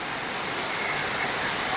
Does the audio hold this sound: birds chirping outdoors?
no